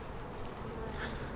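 A steady, dense buzz of many honey bees droning close by at an open queenless hive, continuous and even throughout with no voices.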